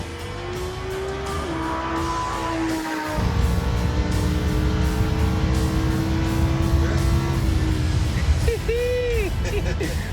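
A race car accelerates hard on a track, its loud engine note climbing steadily and holding high through the clip with a brief tire-squeal-like whine near the end; a voice speaks briefly over the engine.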